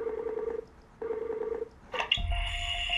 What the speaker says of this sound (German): Ihren Skype-Namen hat sie uns auch genannt, also ruf sie mal an.